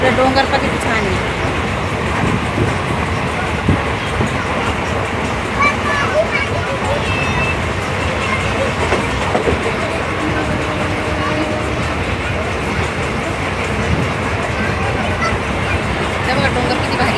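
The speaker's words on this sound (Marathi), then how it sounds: "दौलताबादमधून पुन्हा गाडी निघाली आता." Passenger train pulling out of Daulatabad, heard from inside a carriage: a dense, steady rumble of wheels on rails with faint clatter, continuous for the whole stretch, with people talking over it.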